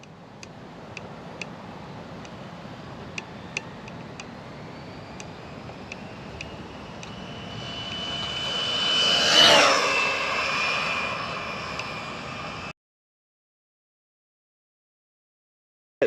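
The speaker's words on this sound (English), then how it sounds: "We're gonna be running the Typhon 2 to 3S on 2S with the massive gear that we have in there." An Arrma Typhon 2-3S RC car with heavy gearing makes a speed run on a 2S battery. Its electric motor whine builds steadily, peaks loud and close as it passes, fades slightly and then cuts off abruptly, with faint ticking underneath.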